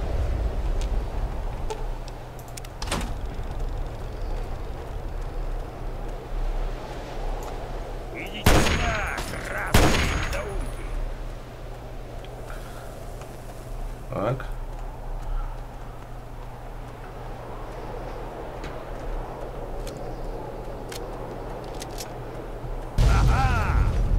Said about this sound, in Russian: Все, пушки взорваны.